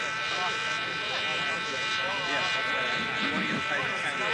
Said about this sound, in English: A little rev of the engine.